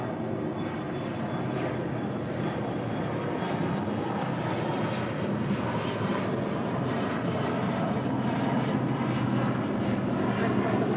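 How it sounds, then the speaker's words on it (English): An Embraer E175 jet departs LAX, producing a steady, fairly faint broadband engine roar that holds evenly for about eleven seconds. "This is United Express 4643 departing to San Diego on an E175."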